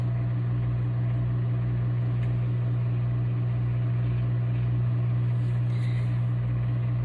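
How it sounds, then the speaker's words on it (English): A microwave oven running: a steady low electrical hum with a constant drone, like an appliance motor running continuously, with no talking. "it says microwave for 1 minute, which we're doing right now"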